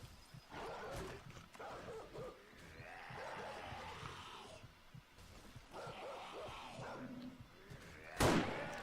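An attacking dog in the 7 Days to Die video game snarls and barks in bursts, with a sharp slam near the end.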